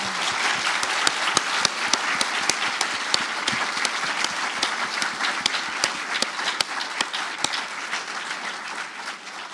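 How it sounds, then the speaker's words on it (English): Sustained applause from an audience at a film screening and discussion, many hands clapping in an even, continuous wash at moderate volume with a few sharper individual claps standing out. "we'll just have another round of applause for our guests here"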